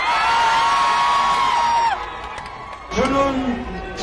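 Supporters cheer and shout at Ulsan station plaza, a loud crowd roar with whoops that fades after two seconds, then a fresh burst of shouting rises near the end.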